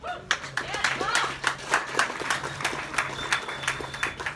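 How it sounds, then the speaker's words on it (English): An audience at a Donner Party history presentation breaks into applause, a loose patter of claps spread over the clip, fairly faint, with a murmur of voices underneath. "Let's have another round of applause."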